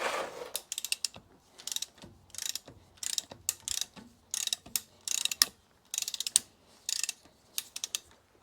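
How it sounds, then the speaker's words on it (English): A ratchet loosens the rear differential drain plug on a RAM 1500, giving close, distinct bursts of rapid clicking with short pauses between strokes, heard alone. "we'll loosen our drain and remove that"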